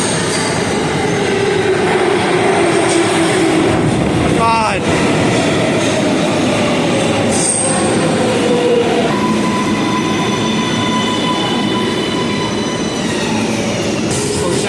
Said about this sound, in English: Here comes our chariot over to Times Square.